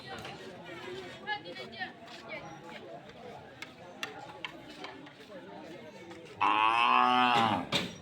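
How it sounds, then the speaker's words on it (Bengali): At a crowded Qurbani cattle market in Majherpari, Chakaria, one loud, drawn-out moo rises near the end over a continuous bed of crowd chatter and scattered clicks. "আমি এখন মাঝেরপাড়ি গরুর বাজারে"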